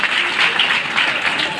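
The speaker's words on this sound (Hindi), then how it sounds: "इनके सम्मान में दिल की गहराइयों से जोरदार तालियां हो जाए" Steady, dense applause from an audience at a gathering, even and sustained throughout with no break, a continuous wash of many hands clapping at moderate loudness.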